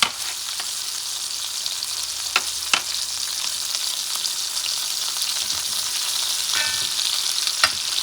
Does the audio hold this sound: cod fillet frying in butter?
yes